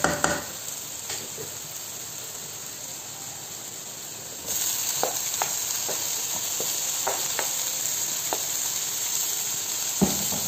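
Eggplant and tomatoes fry in a pan with a steady, close sizzle and scattered spatters and pops; the hiss grows louder partway through and carries on with no talking.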